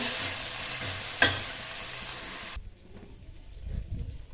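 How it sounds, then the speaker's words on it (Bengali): Steady sizzling of ginger garlic paste frying in a hot pan with one sharp clatter, then the sizzle drops away to quiet scraping near the end. "আমি আদা রসুন পেস্টটা এর মধ্যে দিয়ে দেবো, দিয়ে ভালো করে ভেজে নেব"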